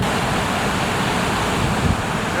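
Strong wind blows across the microphone beside an Icelandic waterfall, a dense, steady roar of broadband noise with rushing water mixed in, loud and unbroken throughout.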